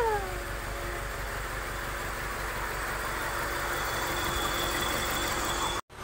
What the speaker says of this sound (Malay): Enjin dah stabil dah.